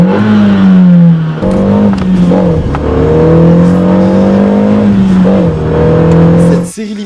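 A Renault Megane Estate GT 220's 2-litre turbo engine hums and revs loudly through the gears while driving, with rising pitch, shifts and exhaust rumble up close from its RS Phase 1 exhaust.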